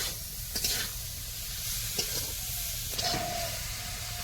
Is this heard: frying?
yes